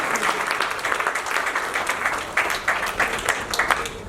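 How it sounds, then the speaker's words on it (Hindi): Enthusiastic applause for actor Raghubir Yadav at a Hindi film trailer launch, a crowd clapping energetically and continuously, with uneven sharp peaks as individual claps stand out. "रघुवीर साहब को जोरदार तालियां रघुवीर यादव साहब के लिए।"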